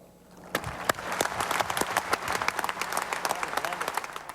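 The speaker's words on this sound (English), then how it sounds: "pardon us while we stand and applaud" A baseball stadium crowd stands and applauds at a tribute ceremony for Jack Buck, a dense, sustained wash of many hands clapping that swells after a soft start, with a voice faintly underneath.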